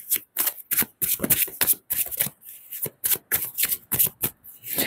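Tarot cards being shuffled up close, a rapid series of crisp riffling bursts separated by short pauses, with no voices.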